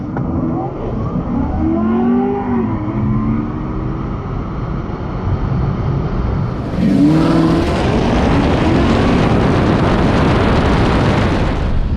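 A Tesla Plaid and a blue Chevrolet Camaro drag race at a strip, with a loud continuous engine and drivetrain roar, rising whines, and a sudden surge of louder, broader noise midway.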